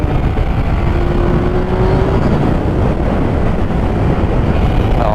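Triumph Speed Triple R motorcycle ridden on the road, its engine a steady continuous drone heard from the rider's position under heavy wind rush, with no talk.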